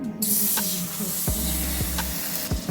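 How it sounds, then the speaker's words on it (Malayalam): A glass of water poured into a hot frying pan gives a loud, steady hissing spray that fills the whole moment, with a few small clanks and no voices. "അതിലേക്ക് നമുക്ക് ഒരു ഗ്ലാസ് വെള്ളം ചേർത്ത് കൊടുക്കാം"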